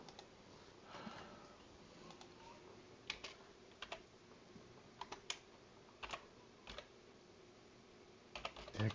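Sparse keyboard clicks from typing on a computer keyboard while playing Fortnite, faint and scattered in small clusters over a quiet room hum.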